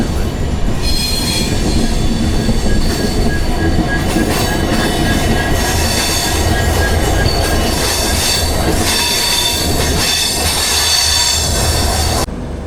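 A train grinding steadily along the line near Dudhsagar waterfall, with a continuous high metallic wheel squeal over a loud rumbling roll that holds steady throughout, with no voices.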